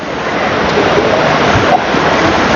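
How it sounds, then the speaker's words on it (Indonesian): Heavy rain pours steadily outside in a loud, dense, unbroken wash of noise with no voices. "di luar hujan masih lebat sekali ya di luar sana ya"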